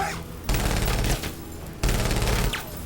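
Video game gunfire comes in two sustained, loud automatic bursts, each lasting about a second, with a short pause between them and no talking over the shots.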